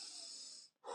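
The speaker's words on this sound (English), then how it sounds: "we'll do an inhale nose and then an exhale mouth" A slow breathwork breath: a long, soft inhale through the nose drawn out for most of a second, a brief pause, then the start of a breathy exhale through the mouth, close and quiet.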